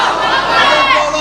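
A large crowd at a religious gathering calls back in answer to the Nara-e-Takbeer chant, a loud, continuous mass of shouting voices that swells slightly midway.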